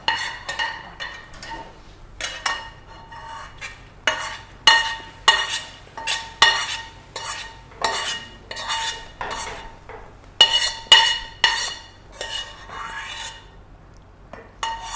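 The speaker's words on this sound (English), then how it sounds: "You have to use a metal spoon for the caramel and listen to the music" A metal spoon stirs and scrapes melting caramel for wheat halwa in a pan, giving repeated clinking, scraping strokes in uneven bursts, fairly close and clear, with no talking.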